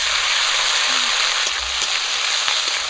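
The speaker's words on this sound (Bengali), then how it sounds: "গরম তেলে দিয়ে দিচ্ছি পাঁচফোড়ন, পেঁয়াজ কুচি, কাঁচা লঙ্কা চেরা, আদা রসুন আর জিরে বাটাটা দিয়ে দিচ্ছি" Panch phoron, chopped onion, slit green chilli, ginger-garlic and cumin paste hit hot oil in a pan, giving a loud, steady, dense sizzle with small pops throughout.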